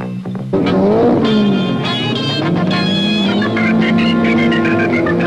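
A field of touring race cars, including big Fords, roars away at the start of a 1971 race at Sandown Park, engines revving loudly together in a dense, rising chorus that fills the scene.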